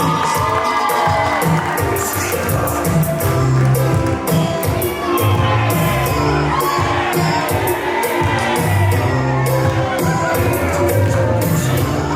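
A crowd cheering and shouting at a live event, loud and continuous with dense overlapping voices and whoops, and rhythmic claps or stomps underneath.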